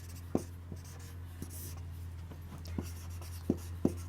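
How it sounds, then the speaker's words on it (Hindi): Marker or chalk on a classroom board writes a name in soft, scattered taps and short strokes, faint over a steady low electrical hum. "यहाँ मैं लिख लेता हूँ हर्षवर्धन"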